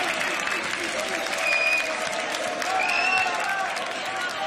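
Crowd applauding and cheering at a beatbox loopstation battle, a steady wash of clapping with rising whoops and shouts, heard alone without talk.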